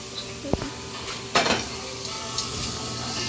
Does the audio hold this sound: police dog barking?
no